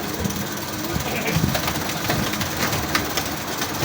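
Old Kamgar pigeons, a Kamgar and Imamdeen cross, coo and shuffle amid a dense, hissy background, with someone talking over them throughout.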